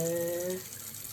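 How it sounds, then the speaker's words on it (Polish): Tap water runs steadily for a cockatoo's bath, a close, even hiss with a faint tonal whine near the start that then settles into plain flowing water. "Ja tylko puściłam wodę."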